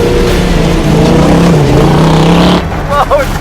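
A 1973 AMC Hornet dirt car drives with a loud, close engine drone that holds steady and then drops away near the end, as voices talk over it.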